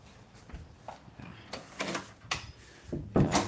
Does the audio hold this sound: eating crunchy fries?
no